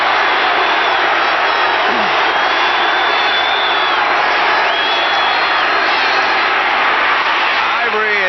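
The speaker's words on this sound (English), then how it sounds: "the crowd starts yelling for that defense" Loud stadium crowd roaring and yelling for the Cowboys defense at a 1982 NFC playoff game against the Packers, a steady dense wall of noise with whoops rising over it and a commentator talking on top.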